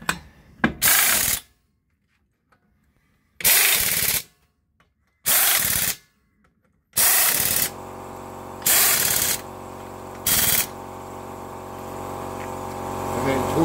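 Bursts of ratcheting from a wrench or impact tool tightening lug nuts on a Toyota Tarago wheel with a new Bridgestone Ecopia EP300 tire, loud and close, several separate runs broken by quiet gaps, a low hum underneath toward the end.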